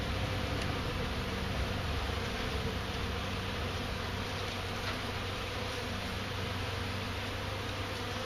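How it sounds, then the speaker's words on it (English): A freshly installed colony of bees hums in a continuous, even drone at a new beehive, steady and close throughout, with no voices. "Bees"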